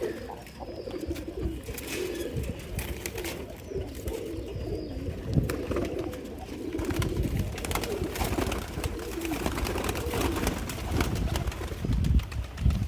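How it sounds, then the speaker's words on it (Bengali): Pigeons in a cage coo softly in low, repeated murmurs amid rustling and fluttering close by, with scattered thumps and shuffling sounds throughout. "এই খাঁচাটা একটু খুলে দিই কবুতরগুলোর"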